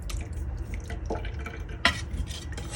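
Homemade cheese whey strains through tulle cloth, dripping steadily in a continuous wet patter with a few louder splashes, close by and without speech.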